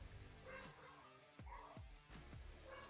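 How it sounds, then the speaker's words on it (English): A dog barks and yips a few times in the background of a room. The barks are fairly faint and come in short bursts over steady low noise. "My dog's barking."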